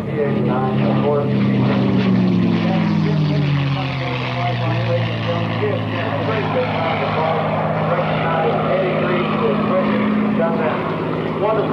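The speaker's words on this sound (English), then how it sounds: "has received their top award as he completes his Cuban 8 here" A propeller aerobatic airplane flies a Cuban eight at an air show, its engine droning loudly with pitch sliding down and back up as it loops, while an announcer talks over it.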